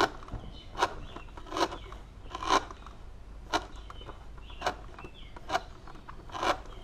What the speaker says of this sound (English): You have to cut bale rope